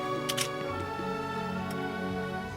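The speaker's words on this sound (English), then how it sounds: "Click a shutter." A few quick camera shutter clicks sound early on, brief and crisp, set against steady background music.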